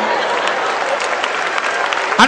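An audience claps at a live comedy show, a loud, sustained round of applause from a crowd that fills the whole stretch, with a short voice breaking in at the end.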